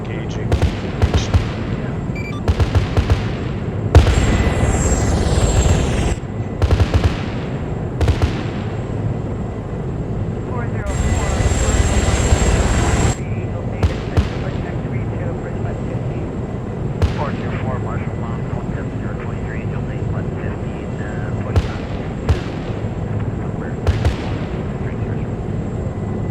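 Apache helicopter support opens fire in a video game. Bursts of cannon fire and explosions boom through a steady engine drone, with several long rumbling salvos and sharp isolated shots spread throughout.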